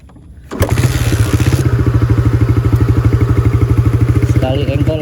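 A Suzuki Raider 125 motorcycle kick-started, a brief low clatter of the kick, then the engine catching at once and settling into a close, loud, steady rapid thumping idle.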